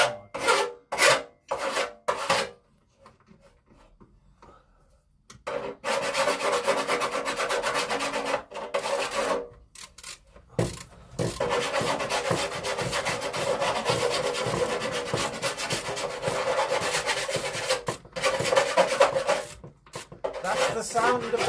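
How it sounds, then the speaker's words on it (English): Bolts on a VW T4 van steering rack are tightened with a tool, heard as bursts of rough ratcheting and grinding, stop-start at first and then sustained, close and fairly loud, with a few quiet gaps. "That's the sound of the bolts getting tightened."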